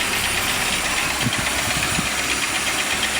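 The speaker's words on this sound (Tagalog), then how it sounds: "the sound of engine" A Suzuki G16 car engine, which has been having trouble starting, runs at a steady idle nearby with a rough, knocking vibration throughout and no voices.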